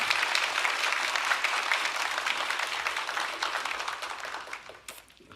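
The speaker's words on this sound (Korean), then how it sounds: "우리 박수로 총장님 환영하도록 하겠습니다" Church congregation claps to welcome a university president before a Sunday sermon, a dense sustained round of applause that gradually thins and fades out near the end.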